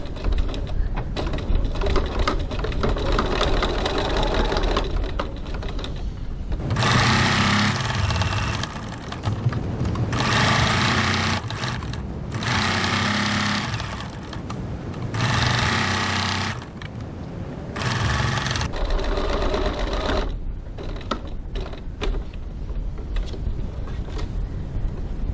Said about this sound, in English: I'm stitching 1 centimetre 3/8 of an inch from the side